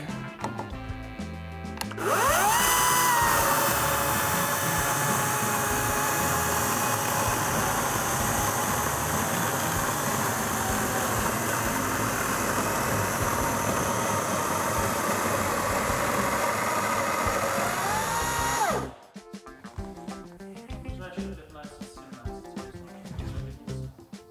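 A Dnipro-M DCS-200BC Dual cordless saw screams at full load through a stress test, a loud, steady whining cut lasting about seventeen seconds after a quick spin-up, then winding down into quieter rustling and handling noise.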